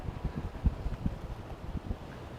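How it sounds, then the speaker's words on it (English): Strong wind gusts at the Momochihama seaside buffet the microphone with low rumbling bursts, close and uneven, blowing continuously throughout. "Quite a wind."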